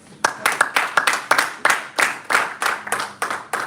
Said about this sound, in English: Let's give one more applause.